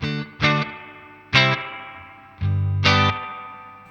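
A Stratocaster electric guitar played through a Danelectro Spring King Junior spring reverb pedal, with four struck notes and chords ringing out with a lingering reverb tail, clear and close with no talking.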